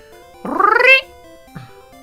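A human voice imitates a pet cat's meow: one loud, rising-and-falling drawn-out meow close up, then a brief, fainter second chirp after a short pause.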